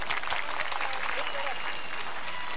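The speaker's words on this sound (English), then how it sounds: "Give them a round of applause too, let's go." A large outdoor crowd applauding during a Lag BaOmer parade, a thick continuous wash of clapping and cheering with faint voices mixed in.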